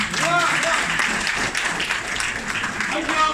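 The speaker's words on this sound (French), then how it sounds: "Applaudissez encore" Audience clapping at a testimonial event, a steady patter of applause running under a speaking voice throughout.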